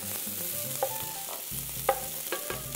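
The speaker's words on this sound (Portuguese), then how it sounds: "eu gosto tanto dessa chiada da panela" Fish and ingredients for a buriti sauce sizzle in a frying pan, a close, steady hiss with a few scraping stirs and clinks of a utensil against the pan.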